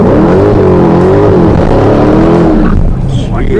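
A Dodge Challenger Hellcat doing a burnout, its engine revving loud and close with rising and falling tones and a tire-squeal edge, tapering off at the end.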